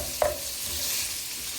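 Ground sausage sizzles steadily in a frying pan as it is chopped and stirred, with one sharp scrape of a utensil near the start against the constant crackle of the fat.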